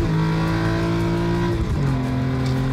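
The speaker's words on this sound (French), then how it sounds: "Quand on monte dans les tours, ça me fait penser à un essaim de guêpes furieuses qui sont coincées dans le tambour d'un set de batterie." High-pitched, loud engine howl from a BMW M3 E46 with its naturally aspirated S54 engine revving hard, the pitch climbing steadily before a brief dip and a rise again, close up and without talk.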